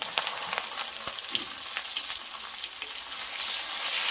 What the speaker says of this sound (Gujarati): હિંગ ઉમેર્યા પછી ભરીને રાખેલા ભીંડા ઉમેરી દઈશું